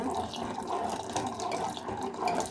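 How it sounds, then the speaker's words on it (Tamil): Water bubbles and churns continuously in a pot, heated for pearl millet porridge, a steady rolling boil with no voices. "பாருங்கள், தண்ணி நல்லா கொதிக்குது."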